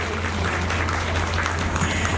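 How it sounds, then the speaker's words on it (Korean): An audience at a Korean cultural seminar claps in a continuous, moderately loud, even round of applause that does not let up across the short moment. "큰 박수 부탁드려요."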